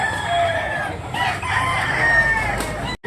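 A black leg bullstag rooster crows close by in one long, loud call with a ragged, drawn-out end, set against steady background noise.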